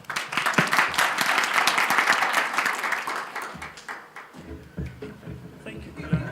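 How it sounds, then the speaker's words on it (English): Audience applause after a pitch presentation, steady clapping for several seconds that fades and gives way to speech with a few lingering claps. "You've received your own round of applause"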